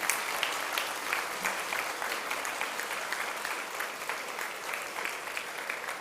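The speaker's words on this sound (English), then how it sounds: "Can we please have the clapping continued?" Audience applause at the inauguration of a Civil20 working group summit on gender equality and disability: sustained, even clapping from a sizeable crowd, close and continuous throughout.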